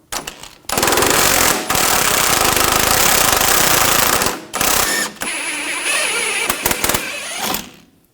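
A power tool with an 18mm socket removes a bolt on the front lower control arm of a 2004-2009 Audi A4 Quattro, giving loud, close, rattling bursts: a short one, a long run, then shorter spurts between brief pauses.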